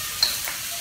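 Shrimp and tofu fry in hot oil in a pan, giving a brief, steady close sizzle with no talking.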